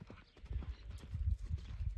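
Faint hooves of a six-year-old chestnut horse clip-clopping at a walking pace on hard ground, soft repeated thuds from a moderate distance.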